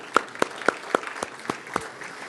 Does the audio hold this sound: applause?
yes